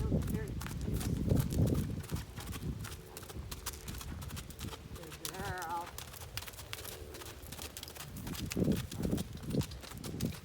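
Rhythmic clip-clop of a young gaited horse's hooves during its first gaiting lesson, a quick, even four-beat patter on firm ground that swells and fades, with people talking over it and a brief whinny-like sound partway through.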